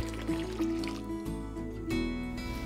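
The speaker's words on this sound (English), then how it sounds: "add some warm water to your foot bath" Warm water pours steadily into a foot bath basin with a continuous liquid rush and trickle, close by, over a low hum.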